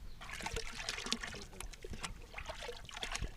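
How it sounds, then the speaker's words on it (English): Manure tea, a mix of cow dung soaked in water in a drum, is poured onto garden plants as fertilizer. It makes a steady, close trickling and splashing that runs throughout, with no voices. "what he calls manure tea, to water his plants for extra fertilization"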